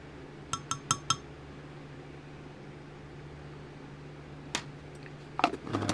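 A metal measuring spoon gives four quick light clinks in a row, then a few more scattered taps later, as red colourant is added to a batch of soft plastic craw bait, with a steady low hum underneath.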